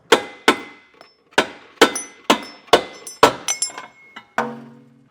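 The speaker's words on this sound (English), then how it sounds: "just get your pry bar with a hammer and give it a few taps" A hammer strikes a metal pry bar during a trailer hitch install on a 2019 Hyundai Santa Fe, a series of sharp, ringing taps, about nine in all, spaced unevenly, each clang decaying quickly.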